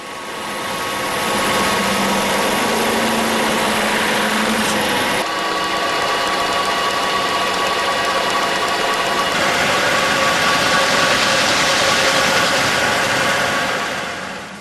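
A metal lathe spins an aluminum reflector for a Serge Mouille lamp while a shaft presses it into shape, producing a loud, continuous, steady machine whine and hum with a slight shift partway through.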